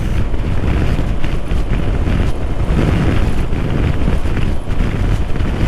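Strong, steady wind roars across the microphone while riding a 2018 Honda PCX scooter, a dense, rumbling buffeting throughout with no pauses and no voices.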